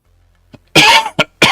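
A single sharp cough bursts out loud and close, followed by two shorter coughs, with nobody talking.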